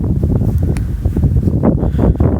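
Strong, gusty wind buffeting the microphone in snowy weather after a heavy snowfall, a loud, continuous low roar with rising and falling surges.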